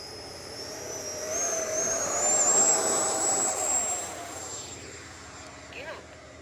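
FMS Futura v3 80mm RC electric ducted-fan jet taking off on its maiden flight: a high, whining turbine-like scream that rises and swells as it passes, then fades into the distance with a lingering thin whistle.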